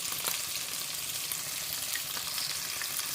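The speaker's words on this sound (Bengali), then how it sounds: "এখন মাছ ভেজে যাচ্ছে" Fish rubbed with salt and turmeric shallow-fries in hot oil, giving a steady, soft crackle and sizzle with faint spits and pops throughout.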